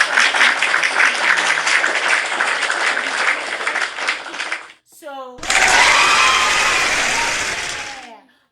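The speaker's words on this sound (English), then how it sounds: "We're gonna give you a clap" An audience claps thickly and steadily for several seconds. The clapping then cuts out, and after a brief gap a different loud, rough sound follows, with a voice speaking briefly.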